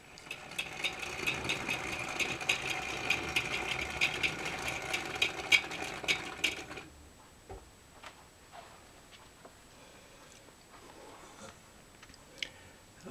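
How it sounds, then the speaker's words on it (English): A model train runs on its track with rapid, regular mechanical ticking and clicking that fills the first half, then fades to a quieter scatter of faint clicks and taps. "and we'll run a few trains"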